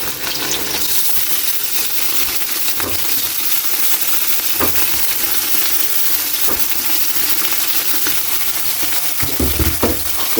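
Pork for adobong sitaw hitting a hot pan, a steady loud sizzle and hiss with occasional clinks and stirring scrapes throughout.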